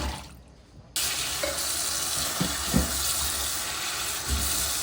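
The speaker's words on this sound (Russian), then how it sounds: "нут, который я сейчас промою" Water suddenly starts running, a steady rushing stream from a tap rinsing chickpeas, with light rattling and clinks under it, after a brief quiet moment.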